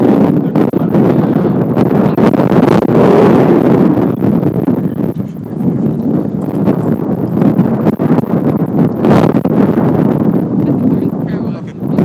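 Wind gusts buffet the microphone in an outdoor parking lot, a loud continuous rumbling roar that swells and eases throughout, with a person talking over it.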